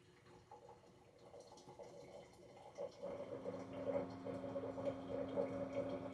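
Hot water from a home water dispenser trickling and splashing into a pot of soup, faint and continuous, growing slightly fuller midway as the stream settles.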